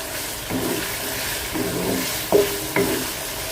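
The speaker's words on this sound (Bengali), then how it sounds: "পেঁয়াজটা একটু একটু হালকা ভাজবো" Sliced onions sizzling and frying in a pan for a Bangladeshi vegetable dish, a steady close hiss with a few scraping stirs and knocks, no voices.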